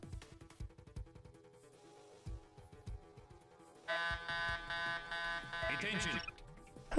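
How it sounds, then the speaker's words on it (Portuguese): Electronic security alarm in the video game Mission Impossible Operation Surma sounds as a steady, bright multi-tone buzzing wail starting midway, following quieter game effects and footsteps, with someone talking in the background. "Eu mesmo ativei o alarme que não podia ativar, né?"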